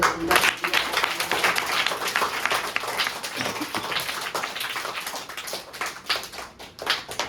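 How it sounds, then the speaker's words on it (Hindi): Loud, dense applause from an audience at a speech fills the whole stretch, the clapping steady with a few sharper bursts near the end. "तो सबसे पहले बहुत जोरदार तालियों से"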